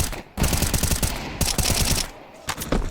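Pistol gunfire in a Counter-Strike 2 esports match, a rapid clatter of loud overlapping shots in several quick bursts.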